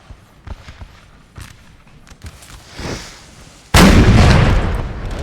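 Artillery volley in a Napoleonic battle video game: scattered distant pops and thumps give way to a sudden loud booming blast that rumbles on to the end, with no talk over it.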